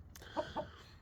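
A big, docile rooster with a bloodied comb gives two short soft clucks in quick succession, faint and close in a quiet coop.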